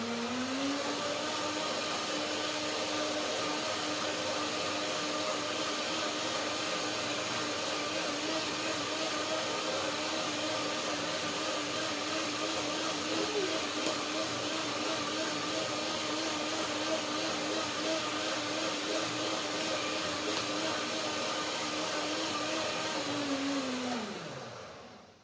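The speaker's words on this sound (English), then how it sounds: "One more blender dance to make it really creamy." A blender whirs steadily at high speed for a long stretch, blending a lime almond cream dressing, loud and even, then winds down and cuts off at the end.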